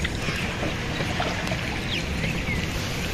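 A wooden village boat full of people moves across a river, with a steady wash of water splashing and trickling along the hull close by and no clear talk over it.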